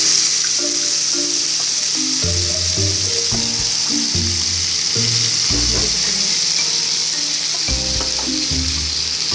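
Onion paste, ginger-garlic paste and chilli powder frying in a pan, a loud continuous sizzle with stirring strokes underneath.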